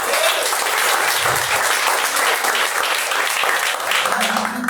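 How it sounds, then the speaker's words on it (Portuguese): Applause from a church congregation during a deliverance worship service, a dense, steady wash of clapping that holds loud and even from start to finish. "Aplauda o Senhor."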